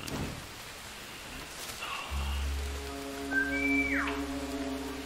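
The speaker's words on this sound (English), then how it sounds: "why did I whistle him down?" A short whistle sounds in the War Mongrels video game, a rising then sliding tone near the end, heard over steady rain-like ambience and a low hum.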